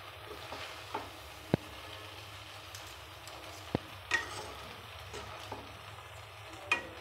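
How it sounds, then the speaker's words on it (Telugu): Forks mix Maggi noodles with masala in a bowl at home, giving quiet, scattered clicks and scrapes against a low steady background hum, with a few sharper taps spread across the stretch. "నేనైతే ఫోక్స్తోనే ఇలా కలుపుతాను"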